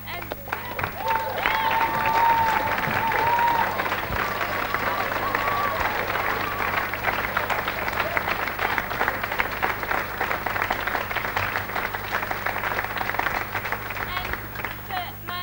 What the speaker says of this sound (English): I think we all owe a round of applause for inspiration she's given to everyone.